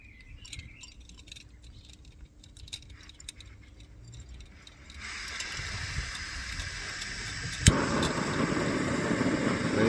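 A small gas camping stove lights on its canister beneath an adapted Jetboil pot support: metallic fiddling and clinks give way to a sudden steady rushing roar of the burner flame, close and continuing, with a sharp ignition click.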